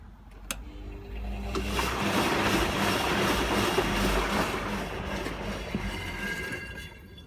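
Hotpoint Aquarius WMA50 washing machine in its wash cycle, a close, continuous churning and sloshing rumble that swells after the first second and holds steady, with a sharp click near the start.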